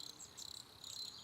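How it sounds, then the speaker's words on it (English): Crickets chirp in a steady repeating pulse, a thin high trill heard faintly and alone as a comic-silence sound effect. "Crickets."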